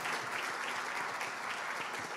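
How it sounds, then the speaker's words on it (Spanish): A church congregation applauds during a Spanish-language worship service, a steady, dense wash of clapping that fills the whole moment without a break. "Denle un aplauso al Señor,"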